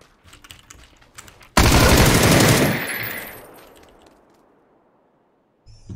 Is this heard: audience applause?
no